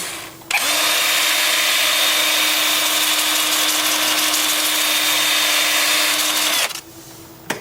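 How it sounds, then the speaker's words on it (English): A loud, steady whirring hum of a wood lathe spinning at about 350 forward while a 2-inch disc sands wood, starting and stopping abruptly after several seconds. "the 2-inch disc sanding with the lathe spinning at about 350 forward."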